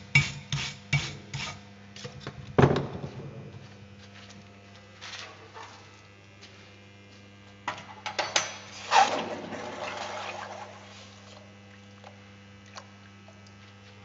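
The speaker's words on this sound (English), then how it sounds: "I am removing the slag and then impurities, removing the slag and impurities whatever present on the weld piece." Scraping and brushing sounds come from slag and impurities being cleaned off a weld piece, first as a quick run of strokes, then as single rasps and a louder burst of scrubbing, heard close over a steady mains hum.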